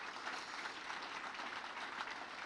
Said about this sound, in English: Let's give these kids all a round of applause.